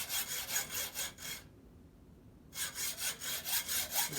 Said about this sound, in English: Okay, time to saw the fork.